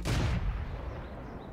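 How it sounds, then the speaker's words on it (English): A tank cannon fires in World of Tanks, one loud close blast followed by a rumbling decay that fades over about a second, with no talking. "See if we can get some shots on this Panzer IV."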